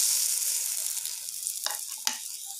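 Rava appe batter sizzles in an oiled appe pan, a steady close hiss of hot oil throughout, with two brief spoon clinks near the end as batter is spooned into the cups.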